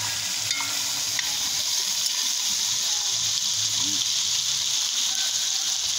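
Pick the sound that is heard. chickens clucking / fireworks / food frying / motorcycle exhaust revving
food frying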